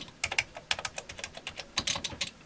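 Keys clatter on an Atari 65XE computer keyboard, a quick irregular run of close, crisp clicks and taps with short pauses between bursts, heard alone.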